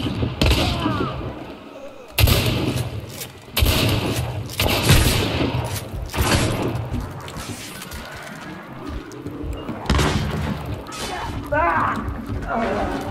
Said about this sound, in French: C'est des tirs à 3.